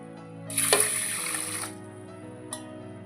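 Water poured from a glass onto rice gives a short splashing gush of about one second, fairly close, followed by quiet and a single faint later drip or clink over a low steady background hum.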